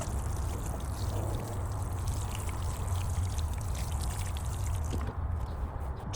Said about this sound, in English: So we're going to go ahead and water now